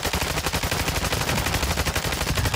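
Automatic gunfire from the video game Call of Duty DMZ rips in a fast, continuous, loud burst of evenly spaced shots that fills the whole stretch without pause.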